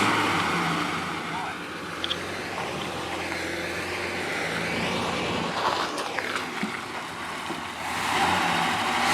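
A square-body truck spins its tires in a burnout, producing a loud, roaring rush of engine noise and tire hiss that swells and fades, with people talking over it.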